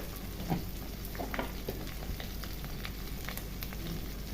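Spices and meat fry in a wok (kadai) with chilli powder, turmeric and salt, giving a soft steady sizzle with occasional light stirring scrapes, quiet and close, no talking.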